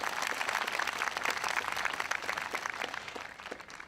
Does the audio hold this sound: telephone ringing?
no